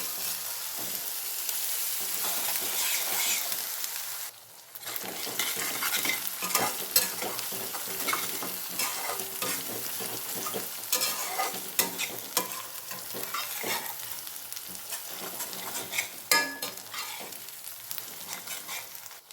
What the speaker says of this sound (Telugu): అల్లం వెల్లుల్లి పేస్ట్ మంచిగా ఫ్రై అయింది.